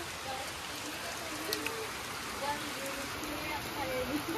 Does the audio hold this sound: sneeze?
no